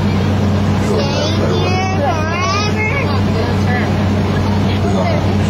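An amphibious Ride The Ducks tour vehicle cruises on a lake near Branson, Missouri, its engine a loud steady drone with water wash over it, while passengers chatter and talk throughout.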